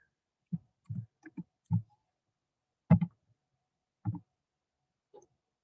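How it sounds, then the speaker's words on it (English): Computer keyboard keys tapped in short, separate clicks, about eight presses spread irregularly with pauses between them, close and fairly quiet, with no one speaking. "let me go ahead and type this in"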